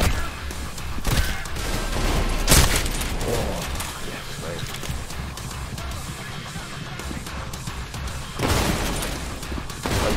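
Rapid weapon fire in a chaotic video game, bursts of quick shots and booming impacts in loud clusters near the start and again near the end, with a voice talking over the action.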